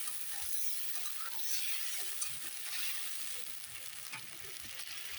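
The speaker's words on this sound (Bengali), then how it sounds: "পোস্ত আদা জিরে কাঁচা লঙ্কা বাটা সব মশলা দিয়ে একসঙ্গে ভালো করে কষিয়ে নেবো" A paste of poppy seed, ginger, cumin and green chili sautéing in a pan for paneer posto, with a continuous sizzle and scattered spatula scrapes and taps close by.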